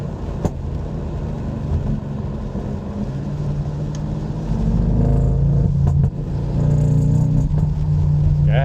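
A tuned BMW M850i accelerates on a race track during a track day, its engine droning loud and close from the cabin and swelling harder about halfway through.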